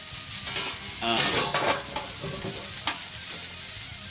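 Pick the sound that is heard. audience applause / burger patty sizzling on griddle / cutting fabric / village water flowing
burger patty sizzling on griddle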